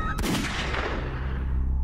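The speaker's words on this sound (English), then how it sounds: "The gunshots were all fired in quick succession." Gunshots in quick succession during a shooting inside a department store, heard as a sharp loud crack followed by a long booming decay.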